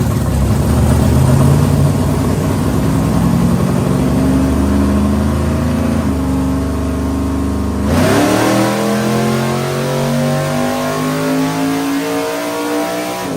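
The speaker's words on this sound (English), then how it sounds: "dyno's hooked up, ready to make a motor pull." A Mustang engine revs hard on a dyno pull, a loud, close, sustained roar that climbs in pitch for several seconds, drops sharply, then settles into a lower rumble that keeps running.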